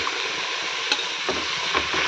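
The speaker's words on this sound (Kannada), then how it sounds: "ರುಬ್ಕೊಂಡ್ಬಿಟ್ಟು ಇವಾಗ ತರಕಾರಿ ಚೆನ್ನಾಗಿ ಫ್ರೈ ಮಾಡ್ತಾಯಿದ್ದೀನಿ" Mixed vegetables sizzle in a pan with ginger-garlic paste, turmeric and salt, a steady close crackle of frying with a few light stirring scrapes and clicks, no voices.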